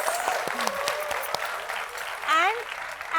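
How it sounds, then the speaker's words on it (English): An audience claps for actress Kriti Sanon at a live front-row film interview, a steady round of applause carrying throughout with voices calling out over it. "we need another round of applause"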